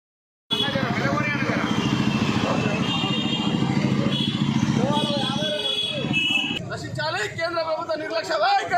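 Motorcycles at a protest bike rally in Malkajgiri, a steady engine drone with revving throughout, mixed with crowd chatter and voices, close and loud.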